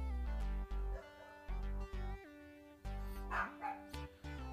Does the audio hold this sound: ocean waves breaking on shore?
no